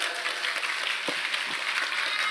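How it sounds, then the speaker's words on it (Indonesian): Applause from a religious lecture audience, a steady broadband wash of many hands clapping at moderate level, with a couple of brief low voice fragments poking through. "Tepuk tangan dulu dong."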